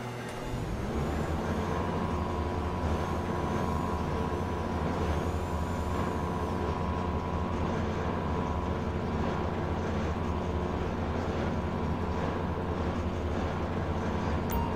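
A steady, loud engine rumble from a truck with air brakes in the GTA V video game fills a port scene, droning evenly with a brief airy hiss near the start and no talk.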